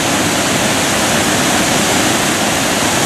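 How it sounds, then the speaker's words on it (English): Several small waterfalls pour down the rock walls of Blyde River Canyon, producing a loud, steady, unbroken rush of falling water with nothing else audible. "As you can see, multiple small waterfalls."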